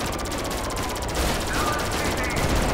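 Rapid machine-gun fire from a weapon in GTA 5, a loud, continuous rattling burst of shots with game background sound and a voice mixed in.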